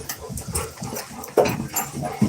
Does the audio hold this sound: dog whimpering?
yes